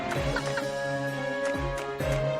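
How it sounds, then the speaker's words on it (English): Chickens in a video game cluck repeatedly over a steady musical background, with a few sharp bursts and short squawks. "God dang chickens and your beaks and your quacking."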